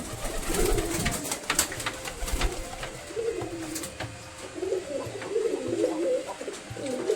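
Pigeons in a loft give several rounds of close, throaty cooing, with an occasional wing flutter or scrape and no talking.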